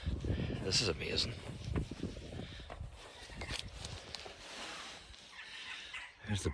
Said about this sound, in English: There's the birds.